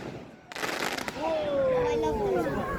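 Outdoor village fireworks display: a few sharp bangs early on, then a rising whistling rocket tone, heard at a distance beneath crowd chatter.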